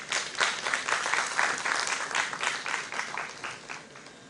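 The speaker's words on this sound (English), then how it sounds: "Put a warm round of applause for Dr. Jayas." Audience applause fills a conference hall, a steady wash of many hands clapping at moderate volume, continuous for several seconds with no voices over it.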